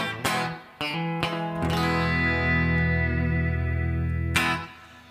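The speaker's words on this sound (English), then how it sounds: "Turn on the back slap echo." Amplified singing or tones processed through a slapback echo effect ring out in several sharp bursts, each note sustaining with a short repeating echo tail, loud and heavily effected, ending with a final hit that fades away.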